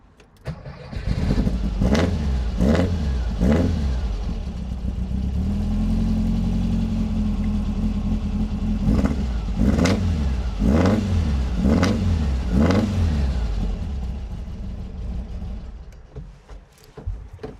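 A 1966 Volkswagen Karmann Ghia engine cranks and fires, then idles steadily with a burst of several sharp revs before settling, close and loud throughout.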